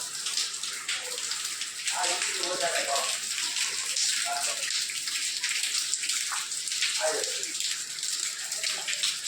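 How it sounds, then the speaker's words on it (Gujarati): Steady rain falls outdoors at a Sheetala Satam temple fair, a constant wash of hiss and spatter with voices talking intermittently through it. "અમારે તો વરસાદ ચાલુ છે"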